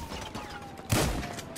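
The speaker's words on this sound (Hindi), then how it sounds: "एक शॉट तो मार दिया" A single gunshot from GTA Online gameplay in a King of the Castle match, a sharp broadband burst about midway through over a steady game hum, with no voices.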